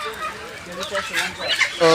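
Chickens and roosters cluck in a crowded duck and chicken market in Fatullah, Narayanganj, their short calls overlapping with a fuller burst near the end amid background market chatter.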